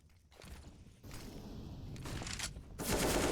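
Bursts of AK rifle fire in the game CS:GO, rapid shots layered over thumping movement, growing denser and louder toward the end, with no talking.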